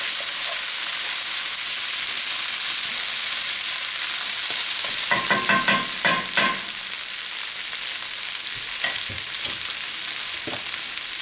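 Potatoes for corned beef hash sizzle steadily in a hot pan, a dense continuous fry with a few scraping stirs partway through; no talking.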